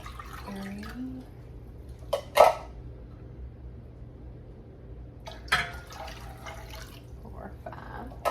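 Cups of water are poured into a pot for canning okra. Two short splashy pours stand out over a quiet kitchen background, with a few faint clinks.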